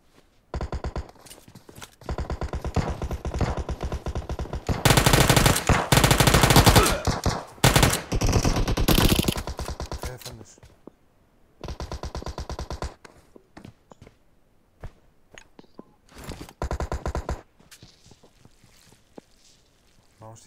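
Uzi submachine gun fire in PUBG Mobile, rapid full-auto bursts in several separate volleys, loud and sharp, with quiet gaps between them.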